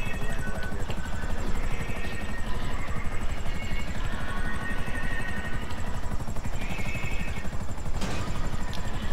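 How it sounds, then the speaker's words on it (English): A helicopter in GTA Online thumps with steady, rapid rotor beats close by and continuous throughout, with a voice briefly talking over it and a sharp burst near the end. "Come with the chopper, man. Keep me safe."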